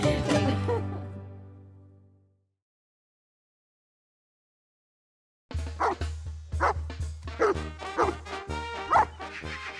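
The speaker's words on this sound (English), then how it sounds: "Dante is a street dog that Miguel has named to the consternation of his abuela." A street dog gives a long, high whimpering whine that fades out. After a pause comes a close, loud series of sharp barks and yips in an uneven rhythm.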